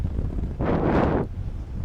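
A burst of wind buffets the microphone while paragliding at La Mine d'Or, Pénestin, for about half a second, a loud rumbling roar that rises and falls away, with quieter wind noise around it.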